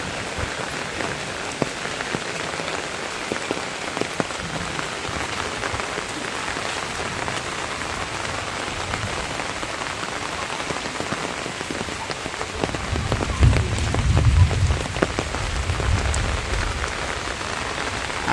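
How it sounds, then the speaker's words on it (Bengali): Rain falls steadily from an overcast sky onto surfaces in a dense, even patter that stays unbroken throughout, with a slightly heavier low rumble late on. "মেঘ এবং বৃষ্টি তো হচ্ছেই"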